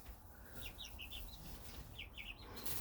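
Baby turkeys and hens give soft, contented chirps and low clucks in small scattered bursts over a faint background hiss, fairly quiet and close.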